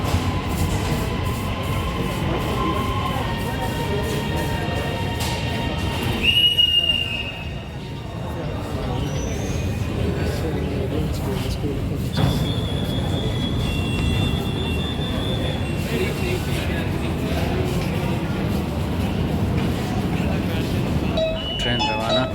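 An Orange Line metro train pulls into a station in Lahore, a steady rolling rumble with a brief high squeal of wheels and passing tones, while people talk nearby.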